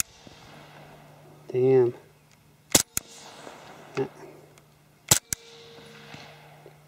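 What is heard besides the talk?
suppressed HK Mark 23 pistol shots, Silencerco Osprey 45 wet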